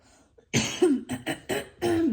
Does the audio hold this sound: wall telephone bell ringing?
no